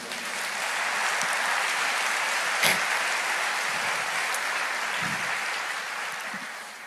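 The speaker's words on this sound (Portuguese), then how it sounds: "Você pode aplaudir o Senhor?" A church congregation applauding during a sermon, a broad, sustained roar of many hands clapping that swells quickly, stays full and begins to taper near the close.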